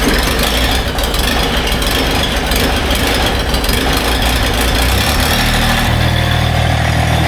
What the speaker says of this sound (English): We got the tractor running.